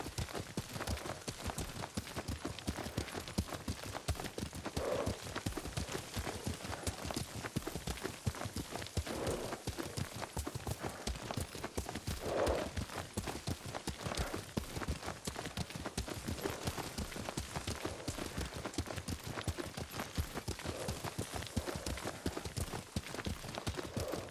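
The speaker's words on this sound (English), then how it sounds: "Lord Sakai taught me to ride a horse." Hooves clip-clop rapidly as a horse is ridden at speed in Ghost of Tsushima, a dense, continuous galloping rhythm across the whole stretch with brief louder swells.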